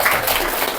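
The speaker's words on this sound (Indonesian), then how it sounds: "Oke, tepuk tangan buat kita semua." Audience applause from a gathered crowd at an Indonesian tour event, a brief dense wash of clapping, fairly loud and close.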